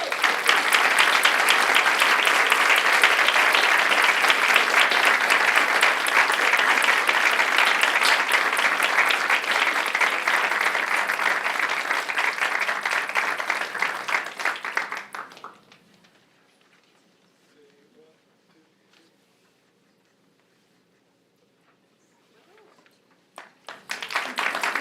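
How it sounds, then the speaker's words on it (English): Sustained audience applause at a medical school faculty awards ceremony, loud and dense for about fifteen seconds before fading to near silence, with clapping resuming briefly at the end. "And a round of applause, please."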